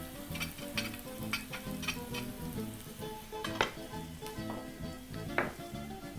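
Spices including garam masala, cumin and garlic powder sizzle and crackle in a pan over medium heat, with scattered scraping taps as a wooden spoon stirs; steady, close and fairly quiet, no voices.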